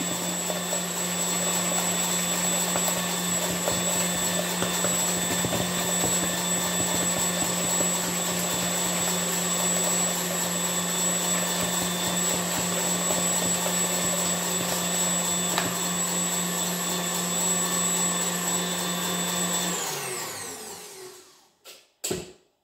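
An electric mixer whips a gluten-free lemon cake mixture with a steady, loud, close motor whir that holds unchanged for about twenty seconds, then winds down and stops, with a few faint knocks at the end.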